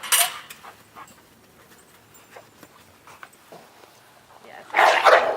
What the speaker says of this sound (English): Well, Jasmine likes to bark because she is mostly deaf.